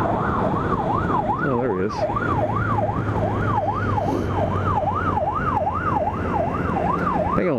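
A police car siren wails in steady rising and falling sweeps while passing on a road, loud and continuous over constant traffic rumble, with a brief spoken remark partway through.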